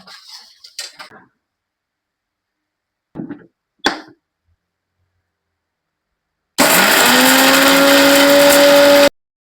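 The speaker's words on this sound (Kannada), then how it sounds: "ಈಗ ಫ್ರೈ ಮಾಡಿದ್ದೆಲ್ಲ ಇಂಗ್ರೀಡಿಯೆಂಟ್ಸ್ನ ಹಾಕಿ ಗ್ರೈಂಡ್ ಮಾಡಿದ್ರೆ ಪೌಡರ್ ರೆಡಿ." A mixer grinder grinds fried spice ingredients into powder for a mutton recipe, starting after a few light clinks and whirring loudly and steadily for a couple of seconds before stopping abruptly.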